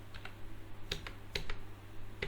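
Keys are typed on a computer keyboard, a few quiet scattered taps and clicks over low background hum during accounting data entry.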